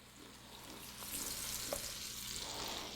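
Beer-battered walleye and vegetables fry in hot oil, a steady hiss and crackle that swells as the cold battered pieces go in, close and fairly quiet with no talking.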